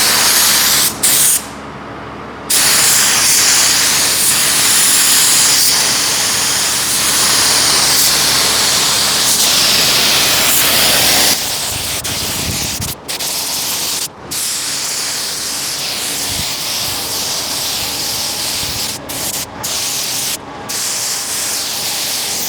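A spray gun lays down Evercoat Super Build filler primer on an El Camino body panel in loud, steady hissing bursts, cutting off briefly several times, with short gaps and quieter stretches between passes.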